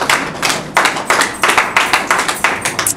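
An audience at a donation ceremony claps in unison, a steady rhythmic beat of loud, close hand claps repeating about three times a second, with no talking.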